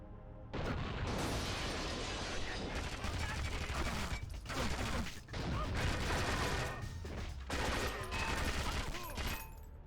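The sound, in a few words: covering gunfire in a video game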